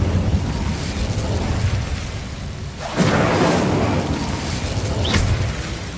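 Incendio fire spell cast in Hogwarts Legacy: a steady rumbling whoosh that swells into a louder burst midway, then a brief bright flare near the end, with no talking.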